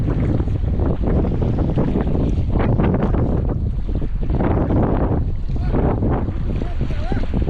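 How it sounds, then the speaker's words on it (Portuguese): Strong wind buffets the microphone aboard a boat on open water, a continuous loud roar with gusting surges and water noise beneath, no clear voices. "o vento tá mais aqui mesmo"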